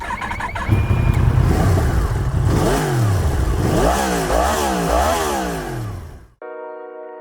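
A Sur-Ron electric motorbike accelerates hard in sport mode with a loud, buzzing motor whine. The whine sweeps up and down in quick repeated surges, then cuts off abruptly, and a short tonal sound follows.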